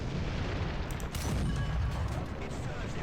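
Artillery shells explode nearby during a War Thunder tank battle, heard from a Soviet ZiS-30 tank destroyer: a steady, heavy low rumble with a few duller booms layered through it, continuous and fairly loud for the whole stretch.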